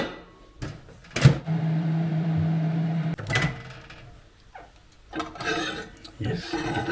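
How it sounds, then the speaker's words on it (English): A microwave oven warming a milky liquid for gluten-free oat bread gives a steady low hum for a couple of seconds. A clunk of the door or latch comes before and after it. "let's get it in the microwave for 1 minute"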